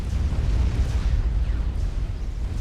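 Explosions of T3 mass extractors being destroyed in the real-time strategy game Supreme Commander, a continuous low rumbling roar of overlapping blasts with no pauses, loud and dense throughout.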